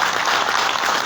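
Dense, steady audience applause fills the room at an awards ceremony, a continuous wash of clapping hands with no talk audible.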